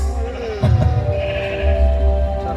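Sheep bleat against a steady low hum and drone, with a few wavering calls mid-level and no speech.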